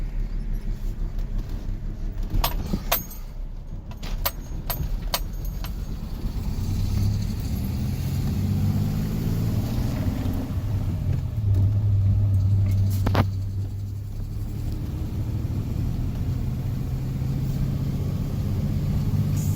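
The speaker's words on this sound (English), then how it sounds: "Go ahead and go into first gear. And we'll just go ahead and take her around the block really fast." A 1988 BMW 325ix E30 with a five-speed manual and all-wheel drive pulls away in first gear, its engine a steady low rumble with road noise building and holding throughout, close and fairly loud, with a few sharp clicks early on.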